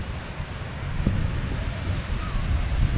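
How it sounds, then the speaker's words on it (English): Big ocean waves rolling onto a sandy beach in the Philippines on a calm morning, a steady broad wash of surf with gusty wind rumble on the microphone and no talking. "Still got the big waves."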